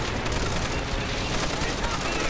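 Rapid gunfire from Call of Duty: World at War, dense and loud, with continuous automatic shooting and blasts packed together and no gaps.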